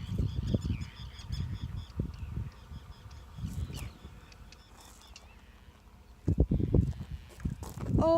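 Large geese honking near their nests along a country backroad, a series of loud, harsh calls in bursts, some close and some farther off, with quiet stretches between them.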